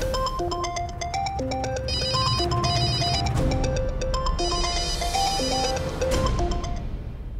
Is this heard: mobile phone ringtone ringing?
yes